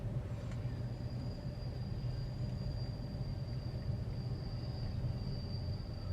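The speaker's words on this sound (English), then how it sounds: "Those are all empty coal cars going back to probably Grand Cache." A steady low rumble of a train of empty coal cars rolling past nearby through a canyon, continuous and even, with a faint high whine running through it.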